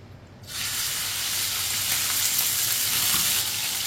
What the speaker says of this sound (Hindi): चिकन को भी 2-3 मिनट के लिए फ्राई कर लेंगे।